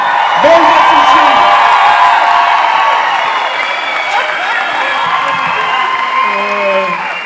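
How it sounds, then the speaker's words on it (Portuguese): Audience at a live comedy show cheering and applauding the cast, a loud sustained crowd roar with whoops and shouts throughout. "Uma salva de palmas pro nosso elenco, senhoras e senhores."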